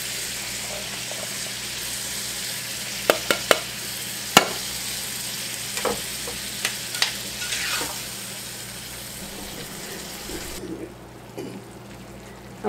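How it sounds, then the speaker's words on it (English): Black beans and chili sauce being stirred in a hot iron skillet, a faint steady sizzle with a few sharp utensil scrapes and clinks against the pan, the sizzling cutting off near the end. "I'm just going to stir this around"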